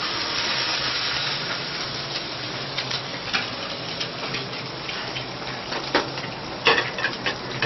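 Two eggs fry in a hot pan beside a small steak, giving a loud, dense, steady sizzle with scattered pops and spits throughout and no talking.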